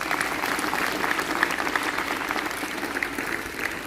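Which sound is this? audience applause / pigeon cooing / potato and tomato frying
audience applause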